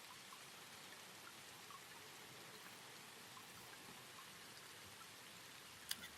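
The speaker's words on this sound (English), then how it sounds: "It started raining at 5." Rain falls steadily outdoors, a soft, even hiss of drops with a few brighter taps near the end, faint and with no voices.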